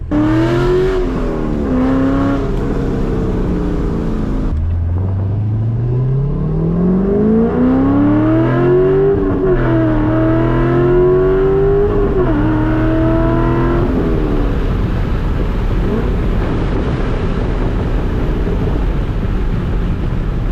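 A Corvette C5 sports car engine revs up and down through the gears, loud and close, with rising and falling whine as it accelerates and slows.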